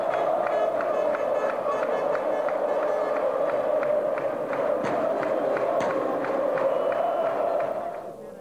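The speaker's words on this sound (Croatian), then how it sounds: "I ovaj gol je Gredić poklonio vjernim navijačima Želje koji su to proslavili na vrlo lijep način." Football fans in a stadium roar and chant after a goal, a dense, sustained crowd noise with rhythmic clapping, staying loud before fading slightly at the end.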